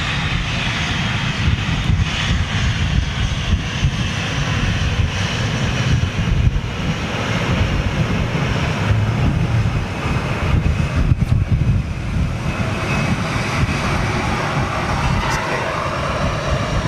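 Airbus A330 airliner taxiing out at Manchester Airport, a steady broad engine roar heard from a distance with wind buffeting the microphone throughout.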